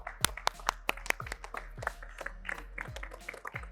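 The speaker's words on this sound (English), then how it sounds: "a big round of applause guys" Applause and scattered clapping for the Dubai Vipers cricket team after a GEPL match, a few close sharp claps standing out over a lighter, uneven spread of hand claps lasting a few seconds.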